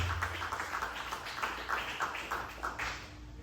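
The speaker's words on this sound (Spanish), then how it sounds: "cuando le regalan un aplauso al Señor por su palabra maravillosa" A church congregation applauds during a sermon, giving a continuous patter of many hands at moderate volume with slightly pulsing surges throughout.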